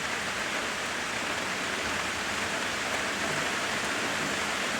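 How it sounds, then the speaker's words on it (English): Heavy rain falls in a steady, dense hiss with no breaks, a constant wash of sound at moderate level and no voices. "Rain, rain, rain, rain."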